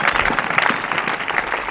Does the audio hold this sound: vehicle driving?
no